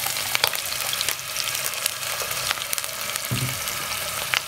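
Ginger and garlic paste frying in oil toward golden brown, a dense continuous sizzle up close with scattered crackles and pops throughout.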